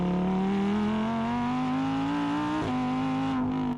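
Lamborghini Huracán rear-wheel-drive supercar engine revving steadily upward, a loud close sustained engine tone climbing in pitch with a brief dip near the end, alone without talk.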